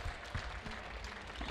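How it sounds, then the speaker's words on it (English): Audience at the 36c3 hacker conference applauding the event volunteers, a dense, even patter of clapping heard at moderate distance for a brief stretch. "Let's give our volunteers a round of applause."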